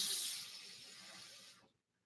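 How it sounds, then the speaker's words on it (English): Water poured into a Vitamix blender jar, a short bright hissing splash that fades and cuts off after about a second and a half. "Just adding a little water to help my"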